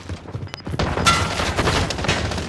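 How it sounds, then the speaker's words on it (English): Gunfire in Call of Duty: Modern Warfare, a loud burst of close shots followed by a rapid crackle of further firing that keeps going to the end. "Taking fire!"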